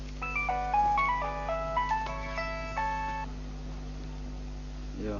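A mobile phone rings with a bright electronic melody of stepped tones for about three seconds, then stops, leaving a steady low mains hum underneath.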